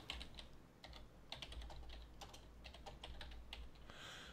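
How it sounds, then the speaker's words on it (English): Computer keyboard being typed on, a steady run of light, irregular key clicks at close range over a low background hum, with a short shuffle of noise at the end. "I'll do a little typing here."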